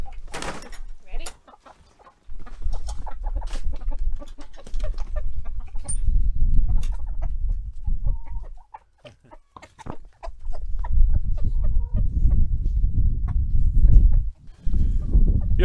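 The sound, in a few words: rooster crowing and clucking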